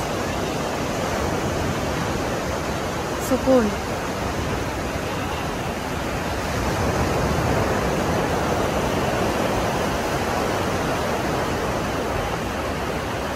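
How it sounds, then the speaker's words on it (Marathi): Continuous broadband rush of flowing water at night under moonlight, steady and fairly loud, with a single brief word spoken faintly partway through. "हा आवाज जो आहे ना पाण्याचा तो फक्त ऐकावासा वाटतो"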